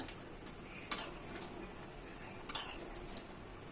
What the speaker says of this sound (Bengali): ঝোলটা ফুটে গেছে। আমি আর একটু নাড়াচাড়া করে দিচ্ছি।